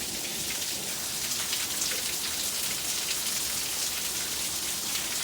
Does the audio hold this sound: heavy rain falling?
yes